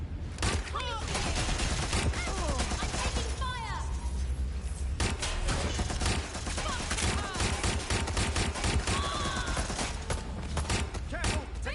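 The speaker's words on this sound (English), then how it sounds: "Shots fired!" Rapid gunfire in the video game Watch Dogs Legion, sustained bursts of automatic shots crackling throughout, loud and close, with voices shouting in between.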